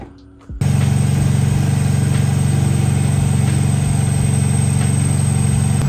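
An Acura RSX engine idles while warming up, starting abruptly after a quiet moment, then holding a steady, loud, low rumble with even pulsing and no talking.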